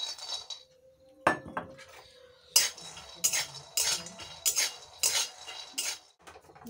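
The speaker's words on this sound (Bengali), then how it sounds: "এবারে কড়াইয়ের মধ্যে আমি বাদামগুলো দিয়ে দিচ্ছি" Peanuts dropped into a metal wok and stirred while frying, giving a clattering pour followed by a steady series of loud scraping, rattling strokes roughly once a second, with no voices.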